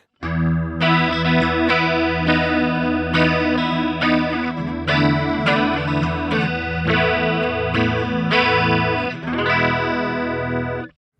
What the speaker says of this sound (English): the one that really stuck out for me was the stereo square chorus